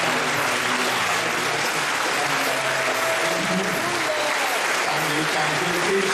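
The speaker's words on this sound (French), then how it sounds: "Stand up and give a big applause." A church congregation stands and applauds at length, a dense, steady wash of many hands clapping close by, with faint voices and music threaded underneath throughout.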